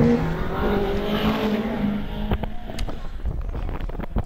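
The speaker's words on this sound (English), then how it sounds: "We now pick up Anthony Sherman in the Caterham 310R" A Caterham 310R races at the Harewood hillclimb, its engine note fading as it passes and moves away, followed by wind buffeting and scattered knocks and clicks near the microphone.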